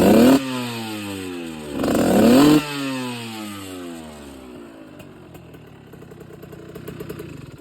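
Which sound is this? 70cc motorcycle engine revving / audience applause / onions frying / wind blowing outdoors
70cc motorcycle engine revving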